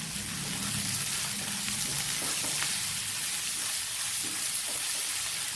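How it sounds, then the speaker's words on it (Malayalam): Onion, green chilli and cumin powder sautéing in a pan, a steady close hiss of sizzling oil running unbroken throughout with faint scattered crackles and no talking. "നന്നായിട്ടൊന്ന് വഴറ്റിയെടുക്കാം."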